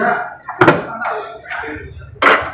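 A 1990 Mitsubishi Eterna 2.0 manual sedan has its door shut: a couple of short, solid thumps stand out near the start and end, close by, with someone talking in between.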